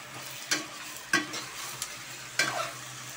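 Chicken drumsticks sauté in a pan with a soft sizzle, broken by four sharp scraping stirs spaced unevenly across a few seconds.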